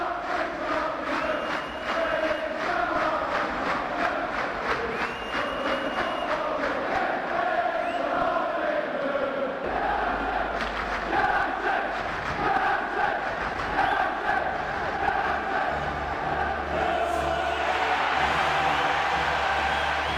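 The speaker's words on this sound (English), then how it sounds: "The ref ends the game, and a huge roar from the crowd." A stadium crowd in the PES 6 football video game roars loudly and steadily after the referee ends the match, with broad cheering and chanting that fills the whole stretch without pause.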